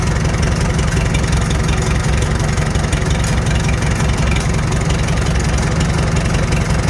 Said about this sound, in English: I've let the tractor run about 5 minutes